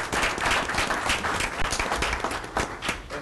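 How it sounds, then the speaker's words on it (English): Audience applause at a school board meeting: a steady, dense wash of clapping from a roomful of people, moderately distant, with no talking over it. "Let's give him a round of applause."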